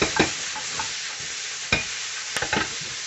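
Spoon or spatula stirring chicken jalfrezi curry in a pan, with soft scraping strokes and a low sizzle of frying vegetables; a few louder clatters stand out near the start, the middle and the end.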